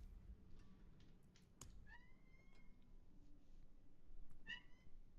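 A house cat meows indoors, two clear rising meows about a second apart and then a shorter one, fairly close but soft against a quiet room hum.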